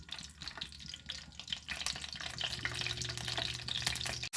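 Tomatoes frying in a hot pan give a steady, close sizzle that grows fuller and louder partway through, with scraping and stirring noises on top and no voices.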